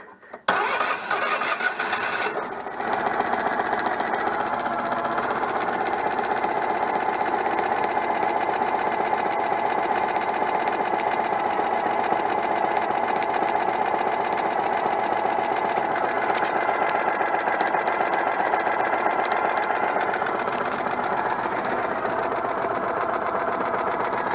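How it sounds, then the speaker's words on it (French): The starter cranks a Citroën 2CV engine, running continuously with a steady, rattling whir after a brief start, holding loud and even for the whole stretch without talk. "Je déclenche le démarreur."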